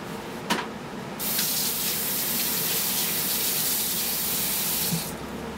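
Tap water runs strongly into a sink while utensils are washed, a close, steady hissing gush that starts after a brief clink and stops just before the end.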